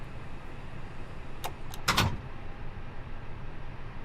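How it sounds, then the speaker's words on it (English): Cockpit door of an Airbus A320neo in a flight simulator game swinging shut, a couple of faint clicks followed by a brief latching thud over a steady, low cabin hum. "listen to the sounds when we close the cockpit door"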